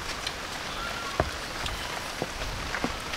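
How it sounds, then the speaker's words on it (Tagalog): Steady rain falling outdoors, a continuous soft wash of drops with a few sharper nearby taps and no one speaking. "Maulan."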